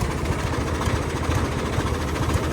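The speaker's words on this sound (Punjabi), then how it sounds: "ਬਾਕੀ ਅੱਜ ਚਲਾਇਆ ਤਿੰਨ ਚਾਰ ਦਿਨਾਂ ਬਾਅਦ ਟਰੈਕਟਰ" Tractor engine running steadily, a continuous close, loud low rumbling drone with slight vibration and no voices.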